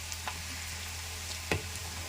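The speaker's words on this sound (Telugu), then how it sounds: "ఈ రకంగా ఇవి చక్కగా ఏగుతున్నాయి" Garlic and urad dal frying in a pan give off a soft, steady sizzle, with a few brief stirring scrapes near the end.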